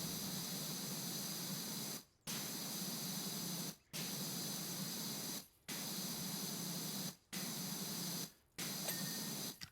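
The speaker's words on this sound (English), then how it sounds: "I'm trying to watch the overspray to a degree." A paint spray gun hisses in steady two-second blasts with brief silent gaps between them, five even cycles close to the mic and no voices.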